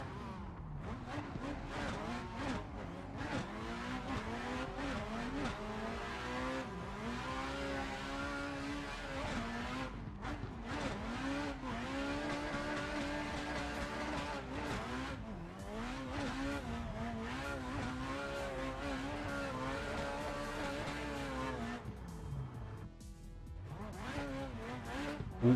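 A drift car in a racing video game, fitted with an SR20 VE engine sound, revs hard and rises and falls in pitch over a long stretch, with tire squeal as it slides.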